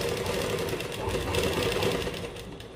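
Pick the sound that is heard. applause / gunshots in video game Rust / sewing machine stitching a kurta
sewing machine stitching a kurta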